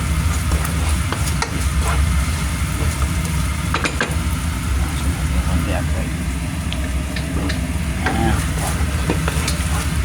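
Clams with dark bean paste are stir-fried in a hot pan, giving a steady sizzle with repeated scraping and clanking from stirring; a person talks at times over the cooking noise.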